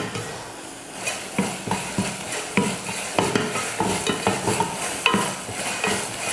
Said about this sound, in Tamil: அடுத்து கொஞ்சம் மஞ்சத்தூள் சேர்த்து வதக்கிடுவோம்.